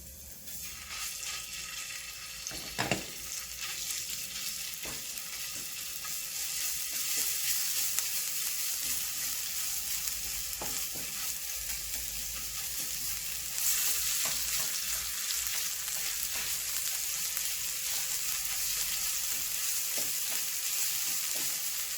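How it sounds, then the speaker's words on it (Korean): Minced garlic stir-frying in cooking oil in a pan over medium heat, a continuous close sizzle that swells slightly partway through, with occasional utensil knocks and scrapes and no voices. "다음에 다진 마늘 한 큰술을 넣어서 볶도록 하겠습니다"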